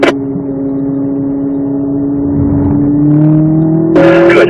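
Corvette Z06 engine accelerating hard on a racetrack, a loud sustained roar with steadily rising pitch, then a gear change, recorded close from inside the car.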